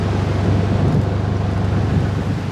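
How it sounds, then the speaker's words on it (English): Strong wind gusts buffet the microphone at a canal mooring beside a narrowboat, a steady loud low roar with rumbling that never lets up and no talk. "This is how strong the wind is."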